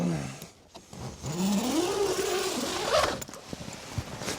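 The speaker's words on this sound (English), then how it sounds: "Zip this up a little bit." A zipper on a rooftop tent cover, mounted on a Toyota Tundra, is drawn shut in a long steady pull, close and fairly loud, with a few light handling rustles after.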